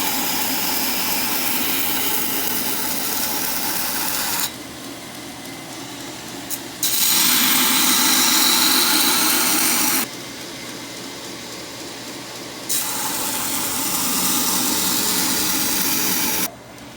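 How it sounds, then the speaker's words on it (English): Knife bevels are ground on a belt grinder, a loud continuous abrasive whir broken into several long passes with quieter motor hum between them, close and steady. "Alright, so we are going to lay some grinds, man"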